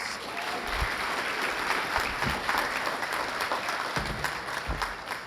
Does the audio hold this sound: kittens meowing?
no